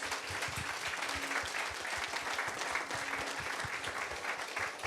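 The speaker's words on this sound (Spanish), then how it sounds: "Aplausos al Señor una vez más." A church congregation claps together in steady, dense applause, a fairly soft wash of many hands in a room with no voices standing out.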